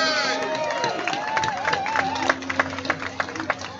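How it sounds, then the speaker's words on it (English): A crowd at an Amtrak train arrival event in Chipley, Florida, applauds Congresswoman Corrine Brown, opening with crowd murmur and a voice, then moving into scattered, sharper hand claps that grow more distinct toward the end. "You can hear the applause."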